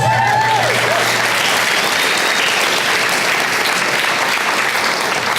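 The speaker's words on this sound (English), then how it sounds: "Give yourselves a round of applause." A crowd applauds steadily for several seconds, a dense, even wash of clapping with no voices on top.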